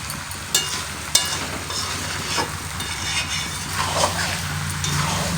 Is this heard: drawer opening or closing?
no